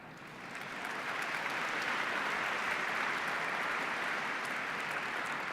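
An audience applauds at a middle school science bowl championship match, the broad, even clapping swelling over the first second and then holding steady and moderately loud.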